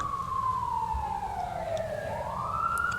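A siren wails steadily, its pitch sliding down and then rising again as it passes, over a low rumble of traffic.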